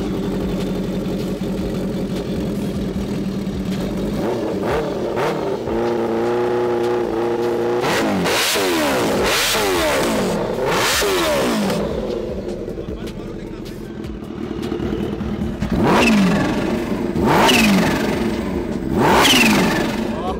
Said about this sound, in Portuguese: Aí, galera, barulho do turbocharger.